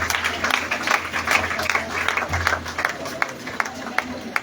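A church congregation claps in praise of Jesus, with a lively run of rhythmic applause mixed with voices and crowd noise under steady low hum.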